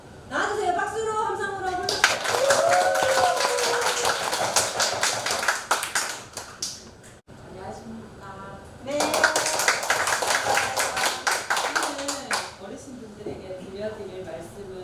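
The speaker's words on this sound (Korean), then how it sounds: "박수로 함성으로 불러주세요." An audience applauds with cheering and shouts at a community school gathering, two bursts of loud sustained clapping separated by a short pause, with voices mixed in.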